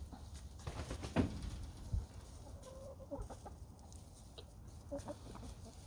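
White Leghorn chickens cluck softly and intermittently against a steady low background hum, with a few short louder calls standing out early on.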